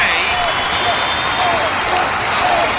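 An audience applauds in a dense, continuous wash of clapping that stays steady and loud throughout, with some talk mixed in.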